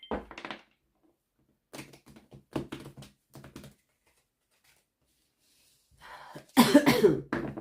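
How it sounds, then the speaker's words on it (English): A lone person coughs in a quiet room: a short cough at the start, a few scattered bursts in the middle, then a louder, harsher cough near the end, with silence between them. "Damn, cough."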